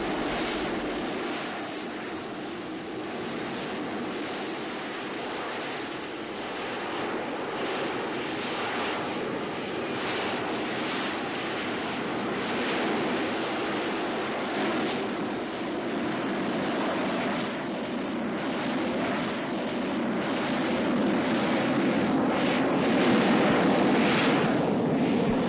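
Harrier jump jet engine roaring as a steady, broad jet rush that holds for the whole stretch and swells slightly louder toward the end, with no talk over it.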